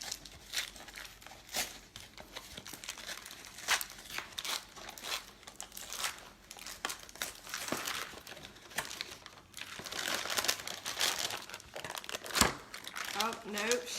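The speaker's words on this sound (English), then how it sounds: "Go ahead and cut these open." Crinkling and tearing of cream cheese packaging being cut open at a crafting and snack table, a steady run of close, dry crackles with occasional sharper rips, with voices talking faintly now and then.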